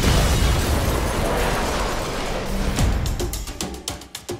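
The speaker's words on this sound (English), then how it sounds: "It's a very small bomb." A small bomb goes off in a crime film, a loud rumbling blast that fills the first seconds and fades into scattered debris clatter and short pops.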